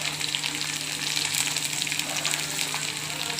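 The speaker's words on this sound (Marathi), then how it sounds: "हिरवी मिरची टाकूयात," Green chilies drop into hot oil alongside already browned onion for a Maharashtrian matki usal, giving a steady, moderately loud hiss of frying close by with no talking.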